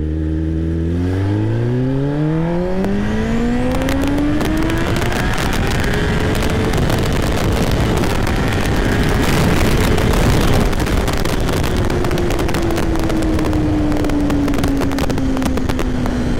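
A Kawasaki Ninja ZX-10R superbike accelerates hard in first gear on a highway, its engine note climbing steeply from a low rumble into a loud, sustained high-rev scream with heavy wind buffeting throughout.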